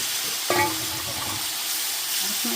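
Boiled taro leaves are dropped into hot oil with spices and fry with a dense, steady hiss, marked by a brief burst near the start and some faint clatter.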